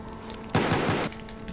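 Video game gunfire: a rapid burst of about three or four loud automatic shots lasting roughly half a second, close and sharp, over a quiet steady background.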